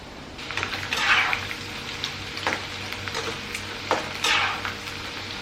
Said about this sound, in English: just fry it like 4 to 5 minutes and you can take it out